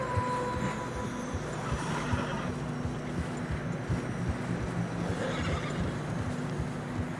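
Horses whinny and snort in the video game Red Dead Redemption 2, struggling through deep fresh snow amid a rumbling, noisy background, with a faint clatter of hooves now and then.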